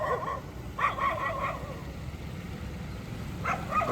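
Dogs bark and yip near the Taj Mahal in Agra, a quick cluster of a few sharp barks, then quiet, then one more bark near the end, at moderate distance.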